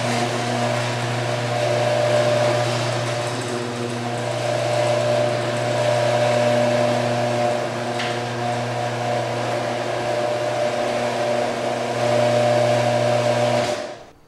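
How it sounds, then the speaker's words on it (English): An old garage door opener's loud motor runs steadily for about fourteen seconds, a strong droning hum with a constant pitch, close and alone, then cuts off abruptly at the end. "Here's an old door with a loud motor."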